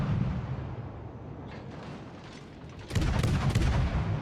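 Naval guns firing from a destroyer at an enemy cruiser in the World of Warships game, a heavy booming burst swelling loud near the end over steady battle rumble.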